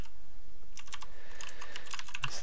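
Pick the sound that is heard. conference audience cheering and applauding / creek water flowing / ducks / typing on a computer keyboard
typing on a computer keyboard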